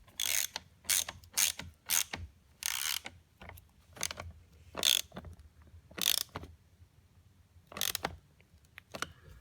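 A ratchet tightens the battery terminal on a 2011–2017 Hyundai Elantra in a series of sharp, close clicking bursts separated by short pauses, with no talking.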